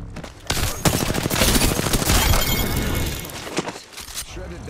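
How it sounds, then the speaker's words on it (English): Rapid gunfire from weapons in the video game Ballistic, a dense burst of fast, cracking shots with shattering impacts that sustains for several seconds before tapering off. "More bullet firing."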